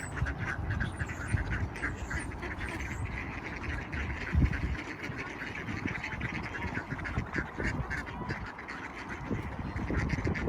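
Ducks squabbling over a big piece of bread while being fed, with dense, overlapping quacks and honking calls going on continuously, fairly close, against steady outdoor background noise.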